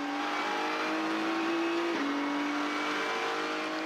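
A white and red GT race car, number 911 from AAS Motorsport, accelerates on the Buriram circuit during GT World Challenge Asia qualifying. Its engine holds a steady, loud drone, with a single gear shift partway through.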